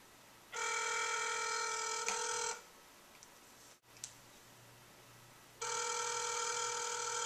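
Two long bursts of a telephone bell ring loud and near, separated by a quiet gap with a soft click and a brief dropout.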